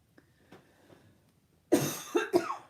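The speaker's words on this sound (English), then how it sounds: "Oh, I hate when I start coughing." A cluster of three harsh, close coughs in quick succession follows a quiet stretch with a few soft clicks.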